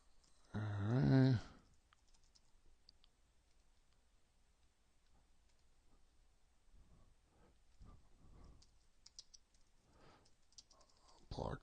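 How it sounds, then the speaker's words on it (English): Soft, sparse clicking of keys on a computer keyboard while junk text is typed into a signup form, faint and intermittent after a short burst of speech at the start. "I'm just typing in junk."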